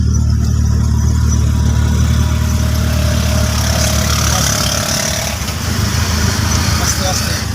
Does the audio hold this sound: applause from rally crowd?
no